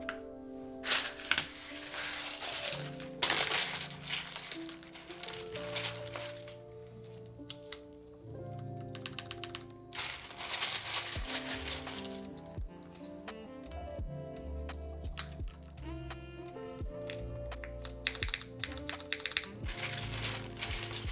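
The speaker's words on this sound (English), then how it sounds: "Let's put some keycaps on this bad boy." Keycaps snapped onto a Keycult No.2 65 mechanical keyboard, a steady run of close plastic clicks and clacks with gear-like ratcheting textures, mixed with faint background music over about twenty seconds.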